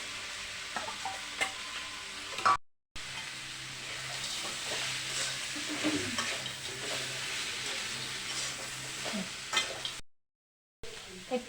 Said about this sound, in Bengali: এর মধ্যে বেগুন আলু বড়ি ভাজাটা ঢেলে দেবো।